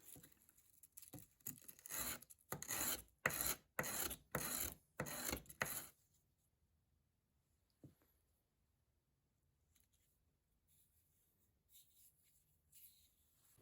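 High-grit sandpaper rubs in quick repeated strokes over the metal branding of a WWII-era Robeson Cutlery pocket knife, close and rhythmic for about six seconds, then near silence with faint scattered handling.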